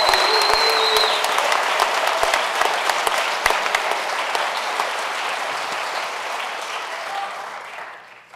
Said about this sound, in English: How about another round of applause for Class 244 and their presenters?